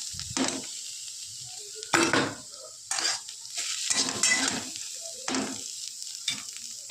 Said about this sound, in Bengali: মূলো শাক ভাজা হয়ে গেছে, নামিয়ে নেবো।